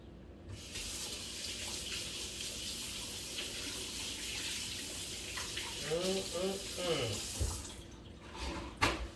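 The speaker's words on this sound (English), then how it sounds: "let me rinse off my hands" Kitchen tap runs steadily while mustard-covered hands are rinsed under it, a close, even stream of splashing water lasting several seconds, with a brief voice partway through and a few knocks as it ends.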